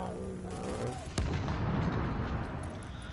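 In a PS4 shooter game, a single loud, sharp gunshot cracks out, followed by a heavy lingering boom and rumbling echo against steady background noise.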